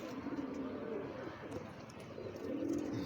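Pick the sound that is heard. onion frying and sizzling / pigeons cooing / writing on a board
pigeons cooing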